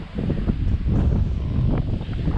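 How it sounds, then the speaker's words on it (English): Wind gusts buffet the microphone in low, rumbling bursts on a dusty Outback road, steady and close, with faint rustling beneath. "Freaking dusty, windy here."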